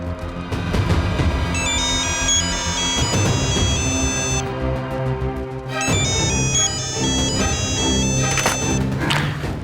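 A phone rings loudly with a bright, repeating electronic ringtone melody over a dense music backdrop, two bursts of the tune separated by a brief break.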